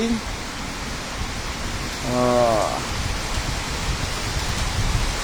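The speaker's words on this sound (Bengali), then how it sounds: "আবার আসতেছে বৃষ্টি আবার বাড়ি যেতেছে আবার বাড়তেছে বৃষ্টি" Heavy rain falling steadily, heard from a balcony, makes a dense, even hiss throughout, with a brief voice sounding partway through.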